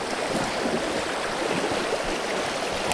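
Glen Maye river on the Isle of Man runs in a steady, broadband rush of flowing water, close and continuous with no talk, though the current is lower than at full flow.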